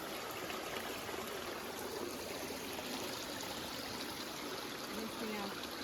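A mountain stream on the Appalachian Trail in the Smokies flows steadily, a broad continuous rush of water that stays even and fairly close throughout with no break.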